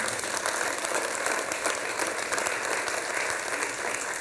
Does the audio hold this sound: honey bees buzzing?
no